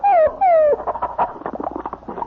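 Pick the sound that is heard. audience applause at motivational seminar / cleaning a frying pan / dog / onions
dog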